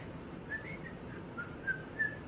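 Someone whistles a soft, wandering tune of short notes over a low background hum, quiet and close.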